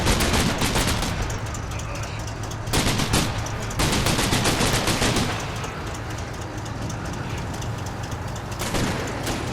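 Sustained machine gun and rifle fire rattles through a forest battle in Combat Mission: Red Thunder, an enemy MG42 among the guns, with dense overlapping bursts and heavy booms, loud and continuous throughout.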